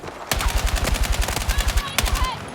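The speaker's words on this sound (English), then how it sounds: "Tap firing at those ranges will definitely help with recoil control for sure." Rapid gunfire from a weapon in the video game Battlefield 6, fired in quick tapped bursts, loud and up close, with a few voices speaking over the shots.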